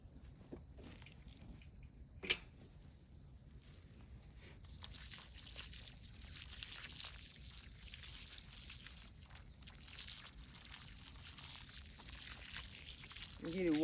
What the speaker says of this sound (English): But first I'm going to go ahead and give you some water.